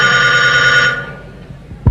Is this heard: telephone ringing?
yes